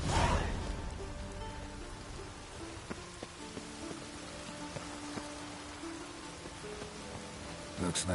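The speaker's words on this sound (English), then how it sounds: "Looks like rain." Rain in The Witcher 3 falls as a steady, soft wash of drops over a surface, with faint tonal game sounds underneath and a louder burst at the start and end.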